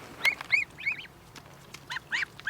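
Several short, high honks and peeps from twenty-seven-day-old goslings, scattered irregularly and close at hand against a quiet background.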